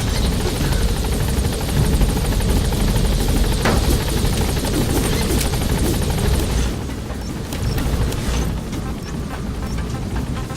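A helicopter in the Metal Gear Solid V video game gains altitude with a loud, continuous rotor chop and engine roar that eases slightly toward the end.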